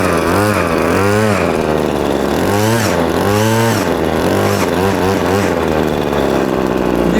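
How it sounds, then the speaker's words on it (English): A petrol hedge trimmer engine, an LRH26C, runs loud and close after being pull-started, revving up and down repeatedly in short bursts over a steady rough drone, with no talking. "let's give it a pull."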